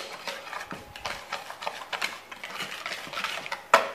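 A utensil mixes melted butter into almond hazelnut cream in a bowl, producing soft irregular scraping and tapping strokes, close and fairly quiet, with a sharper knock near the end.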